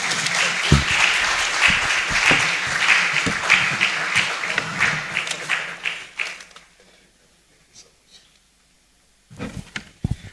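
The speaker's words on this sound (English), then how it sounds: "Another round of applause for Prof, please." Audience applause at a STEM conference, a dense, sustained round of clapping that fills the room for about seven seconds, then fades out, with a few scattered claps returning near the end.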